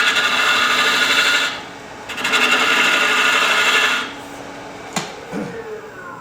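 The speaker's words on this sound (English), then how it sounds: "I'm just pulling my bottom edge and using it as a scraper" A ring tool scrapes end grain on a wood lathe in two long rasping passes, a loud, gritty, hissing scrape, followed by a sharp knock and lighter handling sounds; no one speaks.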